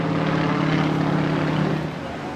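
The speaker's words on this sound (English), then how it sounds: "Pulling the aircraft up." A big single-engine aeroplane with its engine in the nose pulls up into an aerobatic climb at the Portrush Airshow, giving a loud, steady propeller drone that eases slightly at the end.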